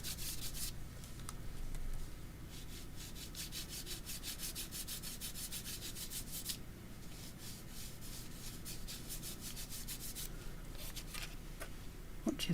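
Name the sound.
finger rubbing gilding wax over a paper tag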